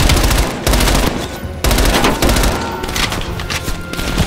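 Automatic gunfire rattles through a Call of Duty Black Ops Cold War campaign firefight in loud, rapid bursts separated by brief pauses, with dense overlapping shots and thuds throughout.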